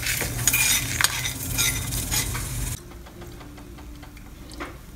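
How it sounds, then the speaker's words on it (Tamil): Spices for mutton chukka are dry roasted in a pan, a utensil stirring and scraping with a faint sizzle that drops abruptly to quieter, sparser scrapes partway through. "இது நல்ல ஸ்மெல் வர வரைக்கும் வறுத்துக்கோங்க"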